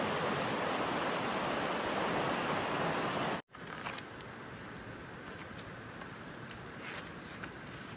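A calm secondary river flows at a camp, producing a steady broadband rush of water, close and continuous, with a brief dropout partway through.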